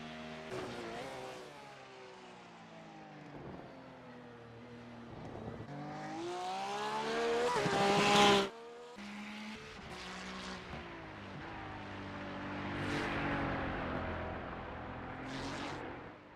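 Race car in iRacing launching down Le Mans' Mulsanne Straight, engine screaming upward through repeated gear shifts with rising pitch sweeps and brief drops between changes, loud and continuous with no talk.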